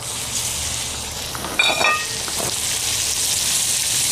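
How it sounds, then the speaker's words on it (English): Seasoned scallops, dusted with Old Bay and pepper, sizzle in oil in a cast iron skillet, a steady bright frying hiss with a burst of louder crackle and spatter as they hit the pan. "I'm gonna go ahead and get them in the skillet with our oil."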